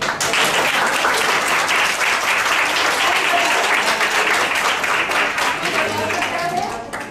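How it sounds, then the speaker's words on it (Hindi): A festival audience claps hands together in sustained, dense applause that stays loud and steady before tapering near the end. "अगर तुम खुश हो तो ताली बजाओ।"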